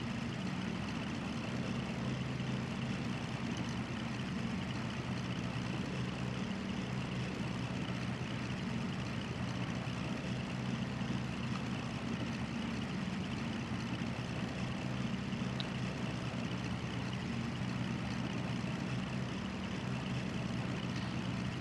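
Twin engines of a Cessna 310 idle at 1,000 RPM in the X-Plane 11 flight simulator, a steady, even low drone with no talking.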